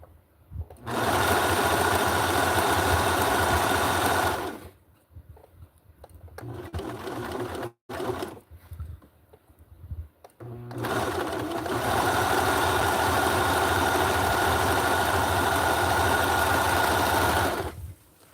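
A serger sewing machine runs in two long, steady loud bursts of fast mechanical whirring, separated by a few seconds of quieter handling clatter.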